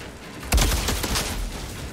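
Explosive-round gunfire in the video game Outriders, a burst of rapid booming shots and popping impacts starting abruptly and rolling on for over a second, loud and close with no talk.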